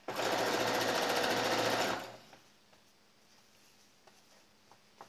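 A sewing machine stitching a shirt: a loud, rapid mechanical rattle that runs steadily for about two seconds and then stops, leaving a quiet room with faint ticks.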